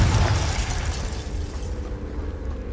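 A Confringo fire spell explodes in Hogwarts Legacy, a loud low boom at the start that rolls into a sustained rumbling burst and slowly fades.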